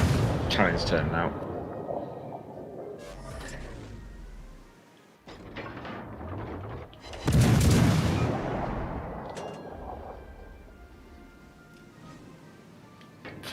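Ship cannon salvos in a naval combat video game: heavy booming blasts, a big one near the middle, each followed by a long rolling decay over game ambience, with talk faintly underneath.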